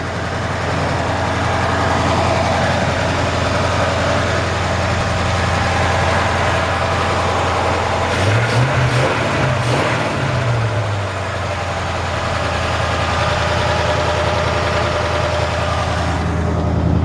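A 1951 Ford F1 pickup's engine idles steadily and close by, a low even rumble that holds throughout with a brief rise in roughness midway.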